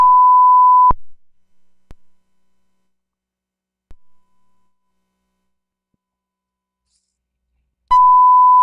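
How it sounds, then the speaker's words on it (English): A steady electronic beep tone from a sampler build's uploaded sketch sounds for about a second, then soft clicks and silence, before the same pure tone starts again near the end. "That beeping is great, eh?"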